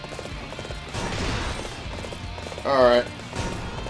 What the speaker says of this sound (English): Let's go for my horse